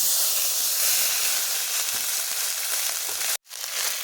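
A paste of cumin, coriander, ginger, garlic and onion fries for egg curry with a loud, steady broadband sizzle and hiss, broken by one abrupt brief dropout near the end before the frying resumes.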